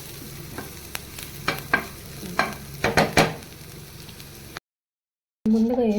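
Spices and onions sizzling in hot oil in a pan while being stirred, with a steady frying hiss and several clattering stirring scrapes, then a brief silence before the sizzle resumes.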